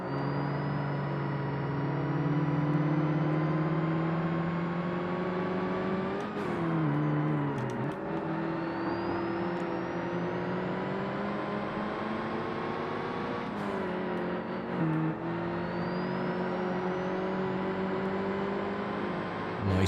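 A rally car engine in Forza Motorsport holds high revs near the limiter as a loud, steady drone. Its pitch climbs, then drops briefly at a couple of gear changes.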